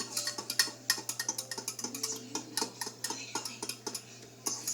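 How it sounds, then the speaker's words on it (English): A fork stirs pumpkin spice keto coffee in a cup, making quick, bright clinks and scrapes against the sides in an uneven, rapid rhythm, close up and alone. "I like to use a fork to stir it"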